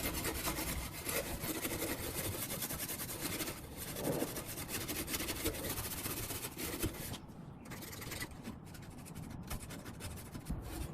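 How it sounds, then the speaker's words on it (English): A stainless steel kitchen sink is scrubbed along its grain with a cleaning product, giving continuous close rasping strokes that rub back and forth steadily before easing into shorter scrapes near the end. "You follow the grain. If you have to do this, you have to follow the grain of the sink."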